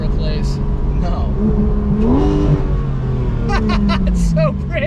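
A Porsche GT3 RS engine with stock exhaust drones loud and close at light throttle, its tone rising and falling steadily while people talk over it.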